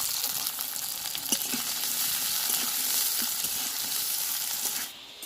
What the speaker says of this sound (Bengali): পেঁয়াজ কাঁচা লঙ্কা ভেজে নিয়েছি